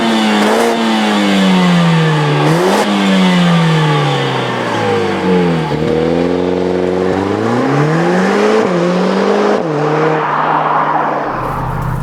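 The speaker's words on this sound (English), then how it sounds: "this is the brand new AMG A45" A Mercedes-AMG A45 S hot hatch engine revs hard, pitch climbing through repeated gear changes with brief dips between shifts, loud and close throughout, ending in a sharp cut-off.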